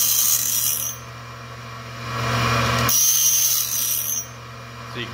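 A Cook's cat claw bandsaw blade sharpener grinding through a full sweep along the blade, a loud steady whirring grind that surges and fades in passes over a continuous motor hum.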